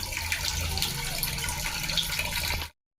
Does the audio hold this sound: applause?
no